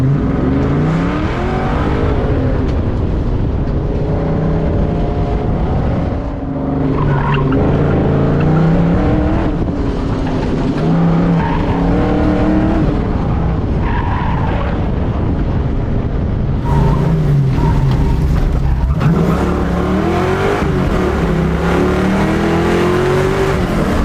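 A car at an autocross event accelerates hard, its engine revving through rising and falling gears with downshifts and tires being roasted, loud and close throughout with no talk.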